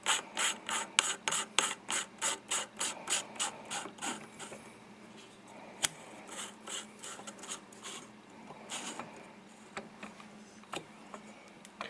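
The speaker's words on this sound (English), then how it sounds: "So we just get a castle nut wrench now and tighten it up." A castle nut wrench ratchets and grinds as it tightens the castle nut on an AR-15 buffer tube: a steady run of rhythmic ratcheting clicks, then looser scraping and rubbing, close up with no talking.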